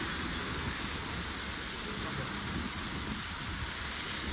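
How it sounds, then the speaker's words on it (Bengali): Monsoon rain falls in the Darjeeling hills, a dense, even hiss of steady rainfall filling the whole stretch without letup. "তো এখনও ফের বৃষ্টি"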